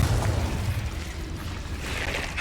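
Fiery blasting spell explosions in a wizarding fantasy video game, a continuous rumbling burst of booms and crackling with dense low-end energy, steady and loud throughout.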